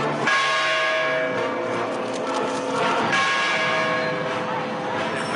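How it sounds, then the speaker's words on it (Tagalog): Balangiga church bells peal continuously with rich, sustained metallic tones, a fresh strike adding emphasis near the midpoint, loud and close with a faint murmur of people beneath. "Bells are returned."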